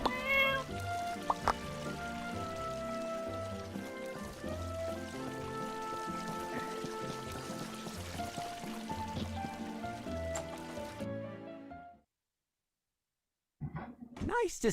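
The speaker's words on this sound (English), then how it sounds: "There's a fat cat." A cat meows over a busy background of tonal, music-like sound; the sound cuts to near silence close to the end before briefly returning.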